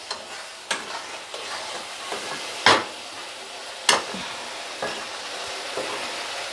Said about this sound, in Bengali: জল দিয়ে এটা ভাজা ভাজা করতে হবে